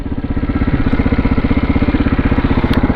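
Single-cylinder engine of a 2002 KTM 640 enduro motorcycle while riding, a loud, close, rapidly pulsing thump with steady rhythm under rushing wind.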